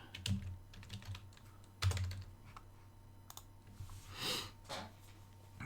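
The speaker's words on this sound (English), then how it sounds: "I'm used to typing on the keypad." Keys clack on a keypad in scattered, irregular bursts, close and fairly soft, with faint breathing between the taps and no speech.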